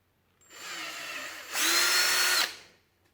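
A power drill with a 4.5 mm bit boring a hole, a steady whine that spins up, then rises to a louder, harsher pitch as the bit bites for about a second before winding down, close and alone.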